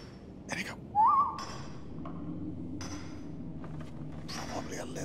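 A person gives one short, rising whistle to call a companion while playing Skyrim. It is loud and close, set among scattered game sounds and voice fragments.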